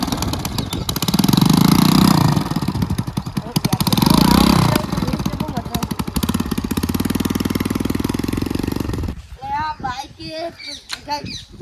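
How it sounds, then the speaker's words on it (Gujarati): A motorcycle engine runs loud and close with a throbbing, pulsing rhythm that rises and falls, then drops away as a voice speaks near the end. "અવાજ જબર બાઈક નો"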